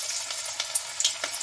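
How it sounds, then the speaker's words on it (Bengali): Cabbage pakoras drop into hot oil and fry with a steady, bright sizzle. Small pops and crackles sit on top of the close, continuous bubbling. "তেল গরম হয়ে গেছে, তাহলে আমি দিয়ে দিচ্ছি বাঁধাকপি পকোড়া।"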